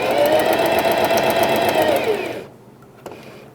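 A domestic sewing machine runs a wide topstitch along a pet bandana, giving a steady, loud whirring drone of rapid stitching for about two and a half seconds before stopping, followed by a faint click in the quiet.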